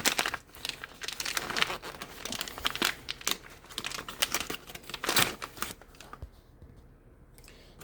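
Crinkling and tearing of plastic long-term emergency food packaging, close and busy in irregular bursts, tapering off into quieter rustles near the end.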